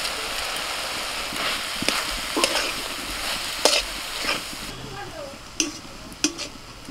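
Prawns fried and stirred in a pan with fried spice paste for a Bengali pea-greens curry, giving a steady sizzle broken by repeated scraping strokes and clacks of the spoon, close and moderately loud.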